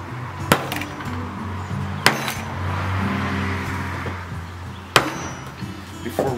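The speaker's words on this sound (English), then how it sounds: "I have this brass hammer. I'm just gonna give it a couple whacks." Three sharp metallic whacks of a brass hammer striking a wood block, spaced a few seconds apart, each ringing briefly over a low hum; no talking.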